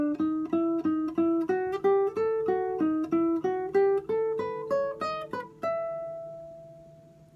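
A guitar picks a steady phrase from the Andean song Adios Pueblo de Ayacucho, evenly spaced plucked notes climbing the neck before a final held note rings out and fades, close and alone.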